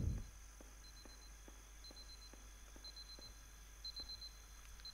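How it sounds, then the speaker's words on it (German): A game alarm clock in Superliminal beeps repeatedly in short quadruple bursts, each burst faint and high, spaced about a second apart over a steady low hum, with no talking. "ich höre das Piepen"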